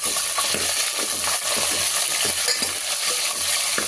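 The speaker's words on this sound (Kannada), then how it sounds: "ಇದನ್ನು ಎಣ್ಣೆ ಫ್ರೈ ಮಾಡ್ಕೊಳ್ಳೋಣ" Potatoes and cauliflower fry in hot oil for a cauliflower masala curry, giving a steady, close sizzle with occasional light stirring scrapes throughout.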